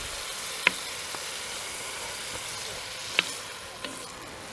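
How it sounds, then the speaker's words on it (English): Minced beef frying in a pan over a campfire at a campsite: a steady, fairly loud sizzle runs throughout, broken by a few sharp pops and clinks of stirring. "we fry the mince"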